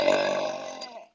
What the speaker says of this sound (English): I'm the loudest burper.